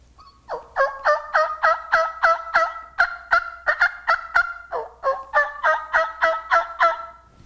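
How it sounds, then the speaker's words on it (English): Turkey yelps and clucks made on a mouth call, a close, loud series of rhythmic raspy yawks in quick runs of several notes with short pauses between runs. "the basic yelp is that yawk, yawk, yawk, yawk. 3 or 4 times, stop, you're ready to go."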